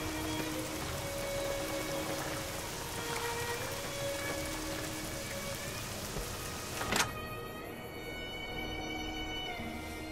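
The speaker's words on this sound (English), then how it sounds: "It's raining right now, which I don't think it ever does out here" Rain in Fallout New Vegas, a steady soft patter of drops on surfaces that continues throughout at low volume, broken by a brief sharp click partway through, with no voices.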